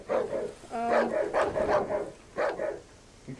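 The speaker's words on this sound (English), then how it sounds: "The dog won't bother you. They'll just bark at you until you get really close to them." A dog in the survival horror game Darkwood barks in a few short, sharp bursts, moderately close, with brief pauses between the barks and a faint whine near the start.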